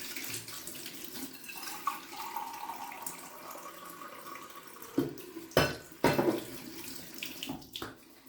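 Water runs from a tap into a bathroom sink during a wet shave, a steady hiss and splash with a few louder gurgles and splashes near the end, close by with no talking.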